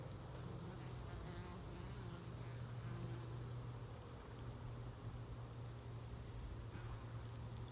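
Steady, dense buzzing of many honeybees close by at a hive, a continuous droning hum with no talking.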